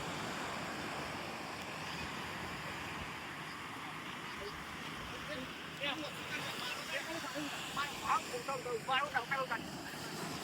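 Surf rolls along the seashore as a steady wash under wind, with a small boat heading out nearby; short bursts of people talking and calling out rise over it near the end.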